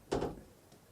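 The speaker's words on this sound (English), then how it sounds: "sorry about the door noise." A door moving in a room during a travel vlog, giving a short scraping thump near the start followed by a fainter knock, close and moderately loud with no talking.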